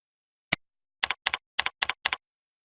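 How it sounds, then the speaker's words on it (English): Keys tapped on a computer keyboard while entering a scheduling option: one sharp isolated keystroke followed by a quick run of five paired clicks, crisp and close against silence. "We'll choose the Free Format Statement option and type in every 1 minute."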